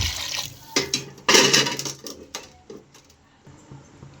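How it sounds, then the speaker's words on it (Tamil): Water splashes and pours in a few uneven gushes into a pressure cooker with rice for tomato rice, loudest in one strong burst, then trickling off with small clinks. "தேவையான அளவு தண்ணி சேர்த்துக்குவோம்"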